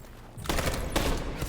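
Police gunfire in the video game Detroit: Become Human breaks out as a dense, rattling volley of rapid shots that starts abruptly and keeps going at moderate loudness.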